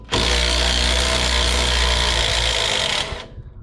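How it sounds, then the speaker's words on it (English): A loud power tool runs continuously at a steady high pitch for about three seconds, then winds down and stops, while replacing rear sway bar end links and bushings on a Mercedes ML (W163). "let's just try a trusty little power tool and see if that makes it quicker"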